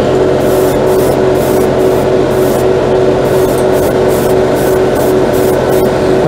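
Airbrush spraying OdenKan lacquer paint onto test spoons, a steady loud continuous hiss of compressed air running unbroken throughout with a low mechanical hum beneath.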